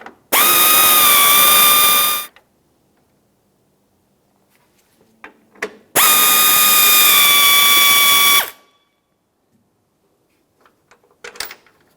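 Power ratchet spinning out 10mm bolts from the grille of a 2009-2019 Ford Flex, two loud buzzing bursts of about two seconds each, separated by quiet clicks and handling noises.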